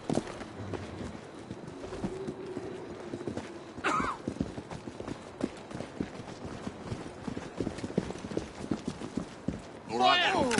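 Horse hooves clip-clop steadily through a street in Assassin's Creed Syndicate, a repeated rhythmic beat of a mare at pace, with a whinny near the end and someone talking over it.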